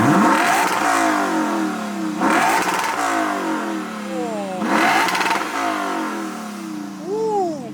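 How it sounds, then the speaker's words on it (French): A Lexus RCF's naturally aspirated V8 engine revs in repeated loud bursts, rising and falling with idle rumbling between each rev, close by and without talk. "Un sacré bruit, V8, Atmo."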